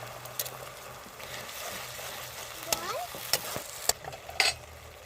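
Tomato paste fries with ginger-garlic paste in a pan, giving a low steady sizzle broken by several sharp utensil clicks and scrapes as it is stirred.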